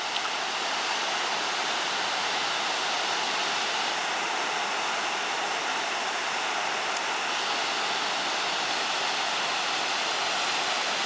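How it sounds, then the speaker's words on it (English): Amnicon Falls, Wisconsin's largest waterfall, roars as a steady, dense rush of falling water, loud and unbroken throughout with no voices. "You are looking at Wisconsin's largest or highest waterfall"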